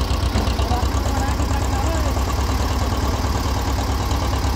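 An Escort 335 tractor engine idles steadily close by, a continuous low, throbbing rumble with a faint knocking pulse and no change in pace.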